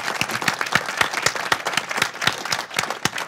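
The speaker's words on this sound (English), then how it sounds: "Round of applause for you guys." At the close of a live show an audience applauds steadily, many hands clapping in a brisk, continuous patter at moderate loudness, with no voices over it.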